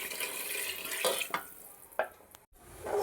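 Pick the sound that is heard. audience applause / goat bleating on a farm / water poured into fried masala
water poured into fried masala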